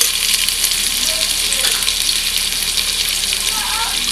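Ginger and garlic paste fries with chopped onion in hot oil, making a loud, dense, continuous sizzle with faint stirring scrapes and no voices.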